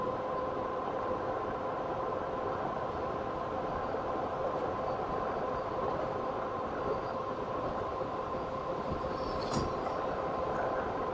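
Radmini Step Thru electric bike ridden at full throttle, a steady droning hum with a constant motor whine and wind rush, no talk, one brief sharp click near the end.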